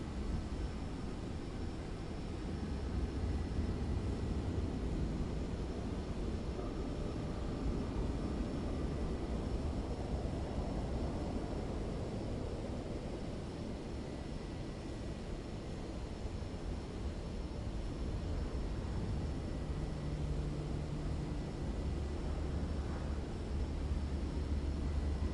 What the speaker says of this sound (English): We're going to use this PC-12 for the first flight.